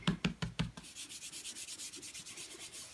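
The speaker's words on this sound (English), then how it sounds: "rub my embossing buddy over the top so that any oils from my fingerprints will not catch on my gold on my card" An embossing buddy is rubbed back and forth over card stock, giving a fast run of soft, even scuffing strokes close by. It starts with a few heavier rubs and then settles into lighter rhythmic passes, with no talking.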